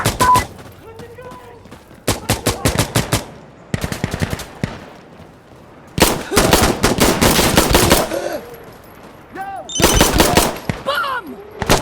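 Heavy .50 caliber gunfire in the Insurgency Sandstorm video game, fired in several rapid bursts of loud, booming shots with short gaps between them, while voices call out over the shooting.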